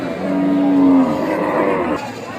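A single loud, drawn-out cow moo close by at a cattle market, lasting about two seconds over a steady background murmur.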